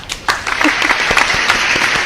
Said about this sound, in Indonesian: Tepuk tangan untuk Bapak Eko dan Ibu Vina.